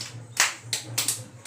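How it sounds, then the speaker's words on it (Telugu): A few scattered claps from young children in an anganwadi classroom applauding a classmate, faint and uneven with short bursts and no talk. "క్లాప్స్ కొట్టండి ఆద్యశ్రీకి"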